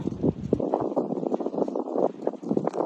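Wind gusting against the microphone beside the Orange River on the Namibia–South Africa border, a continuous low rumbling buffet that swells and dips irregularly throughout, loud and close with no voices.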